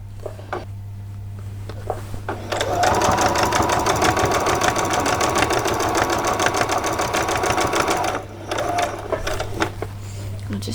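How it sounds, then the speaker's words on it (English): A sewing machine runs a long straight stitch on a two-skirt dress, its steady rapid whir lasting several seconds before stopping, with quieter handling sounds before and after. "Just going to carry on in a straight stitch all the way to the end."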